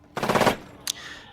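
Burst from an MP40 submachine gun sound effect in a tabletop role-playing session, one short rapid volley of shots followed by a brief sharp metallic click, loud and close with no talking.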